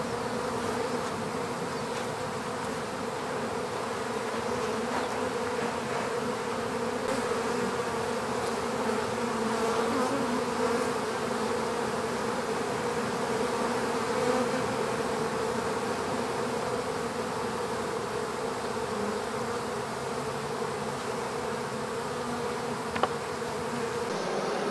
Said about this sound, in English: all the bees that are flying around